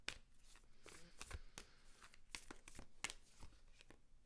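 Astrology cards being handled and drawn from a deck during a tarot pick-a-card reading, quiet close shuffling, flicking and sliding of card stock in irregular bursts, without speech.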